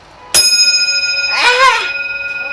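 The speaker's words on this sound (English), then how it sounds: "Ring a bell, that's when the driver stops and lets you off." A request bell on a city bus rings with one sharp metallic ding that lingers and fades, followed by a person speaking over the fading tone.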